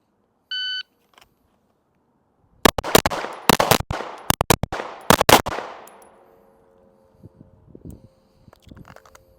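At a pistol live-fire drill on a range, a short electronic shot-timer beep sounds, then after a pause a rapid string of about eight sharp, loud pistol shots rings out close by and echoes away, with no talking.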